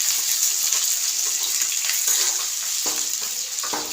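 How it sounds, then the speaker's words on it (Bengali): Onions sizzling and frying steadily in a pan at home, a constant close hiss with occasional stirring clicks and no talk. "পেঁয়াজটা একটু বেশিই দিলাম, এটা ভালো করে ভাজি"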